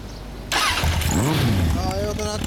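A 2000 Suzuki Bandit 1200S (GSF1200S) motorcycle with a carbureted engine and Yoshimura exhaust fires up. It catches abruptly and settles into a loud, rumbling idle, with a voice speaking over it.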